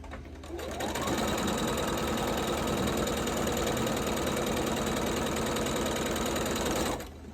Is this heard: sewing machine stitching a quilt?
yes